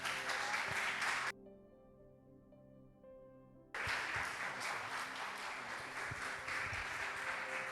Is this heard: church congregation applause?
yes